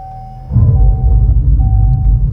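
A 2025 Dodge Charger Scat Pack EV plays a synthetic start-up sound, a deep rumbling drone that swells in abruptly and holds loud over a thin steady tone.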